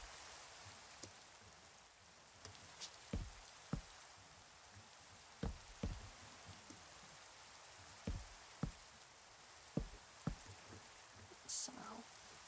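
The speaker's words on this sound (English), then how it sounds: "Ooh, now it's going to rain." Rain falling in the survival-building game Ravens Isle, a faint, steady patter spread through the background, with scattered sharp knocks and taps on top.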